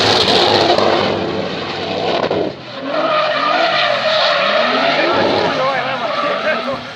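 At a 2017 drift event in Čačak, a car built for drifting screeches its tires loudly and continuously while the engine strains. Voices carry under the racket.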